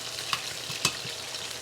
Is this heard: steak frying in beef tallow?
yes